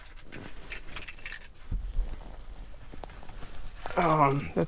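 Keys jingle as they are pulled from a pocket inside a 1994 Honda Del Sol VTEC with a turbocharger, giving a few light metallic clinks close by under a voice.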